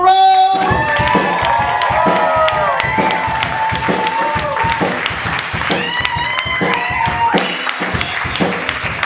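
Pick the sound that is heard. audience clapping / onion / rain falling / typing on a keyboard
audience clapping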